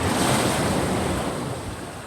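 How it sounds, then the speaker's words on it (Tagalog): Loud, continuous rush of sea waves breaking on the shore, with strong wind buffeting the microphone. "Maganda talaga yung dagat."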